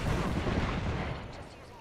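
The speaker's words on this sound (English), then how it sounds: "This man's still shooting me." Dense, rumbling gunfire and explosions from a multiplayer shooter video game fill the whole stretch, loud and steady at first, then easing slightly toward the end, with no voice over it.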